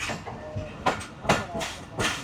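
Khushal Khan Khattak passenger train on the ML-2 line approaching Dandi station: a fairly quiet rumble broken by several sharp clattering bursts of wheels over track, with a voice faintly present.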